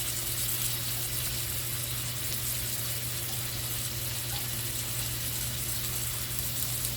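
Potatoes frying in oil on a Blackstone griddle, a steady dense sizzle with an even hiss and a faint low hum underneath, constant and close throughout without speech.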